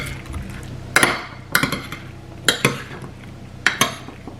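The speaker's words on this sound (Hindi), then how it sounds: "और फिर मैं इसमें डाल रही हूँ इमली की चटनी, थोड़ा सा इसको मिक्स करते हैं।" Tamarind chutney being mixed into chaat in a bowl, heard as repeated clinks and scrapes of a spoon against the dish in an irregular rhythm, close and fairly loud.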